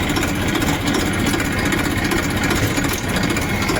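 An engine runs steadily at idle around 1500 rpm right after starting, a loud, continuous low rumble with a constant tone and no pauses, heard alone without voices.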